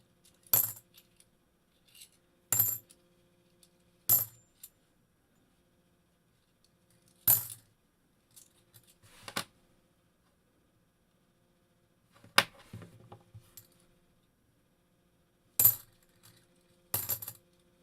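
Half dollar coins clink and drop in sharp, bright bursts while being sorted, about a dozen separate metallic chinks spaced irregularly against near silence.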